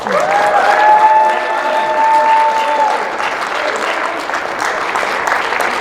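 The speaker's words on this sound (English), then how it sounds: "Let's give them a great round of applause." Audience at an event honoring NFL players' mothers breaking into applause, dense clapping loud and sustained throughout, with some raised tones and voices mixed in early before settling into steady clapping.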